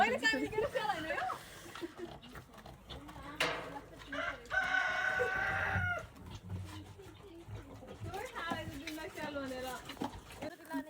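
A rooster on a farm in Romania crows in a long, strained call partway through, with other bird calls and people talking nearby throughout.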